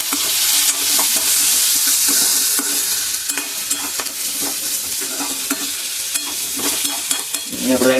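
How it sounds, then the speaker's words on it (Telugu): Potato pieces fry in hot oil in a pan, a loud, bright, continuous sizzle with scattered sharp crackles and spatter throughout, alone without any talking. "ఈ పొటాటో ముక్కలు అయితే ఇప్పుడు అందరూ వేసేద్దాం."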